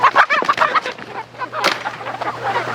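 Chickens near a backyard coop on a small farm, several birds clucking and squawking in quick irregular bursts at close range, with a steady low hum underneath.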